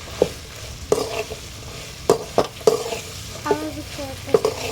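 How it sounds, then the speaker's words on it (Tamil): Broad beans frying in a pan for sambar are stirred with a spoon, producing repeated sharp scraping clinks over a steady low sizzle. "எல்லா அவரைக்காயும் போட்டு ஒரு கிண்டு கிண்டிகிட்டே இருக்கலாம்"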